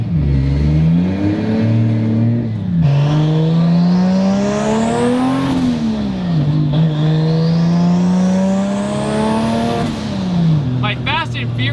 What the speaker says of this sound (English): It makes all the stereotypical noises you'd expect from an import tuner car.